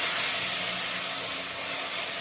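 Masala paste frying in a pan while cooking rui fish curry, a loud, steady broadband sizzle that holds throughout with no voices.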